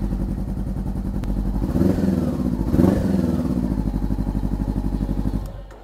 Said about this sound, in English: Gotta love that sound with that aftermarket exhaust.